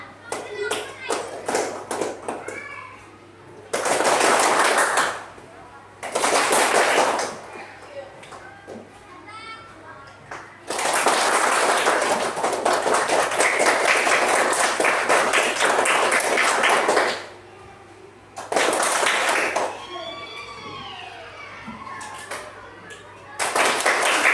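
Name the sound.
class of pupils clapping hands louder and softer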